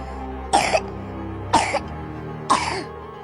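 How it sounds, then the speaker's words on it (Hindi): Three loud, harsh coughs from a child, evenly spaced about a second apart, close up over a steady low background hum, with no talking. "बच्चे ने जोर से खांसना शुरू किया"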